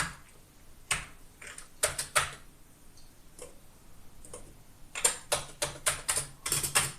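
Keys tapped on an Amiga A1200 hard membrane keyboard, sharp irregular clicks in two bursts separated by a quiet pause, close and distinct with no other sound.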